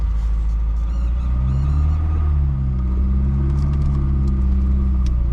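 A 1974 VAZ 2103 (Lada 1500) engine pulls steadily in first gear, a low continuous rumble and drone with gently rising engine tones, heard from inside the car without talk.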